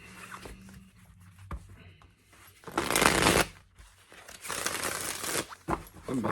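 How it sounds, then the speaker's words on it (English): Tarot cards being shuffled by hand, with bursts of riffling and rustling card noise in two main stretches, close and fairly loud, no talking. "I always pre-shuffle before each individual sign"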